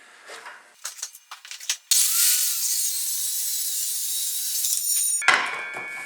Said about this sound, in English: it's not that difficult to run a saw and keep the saw against the fence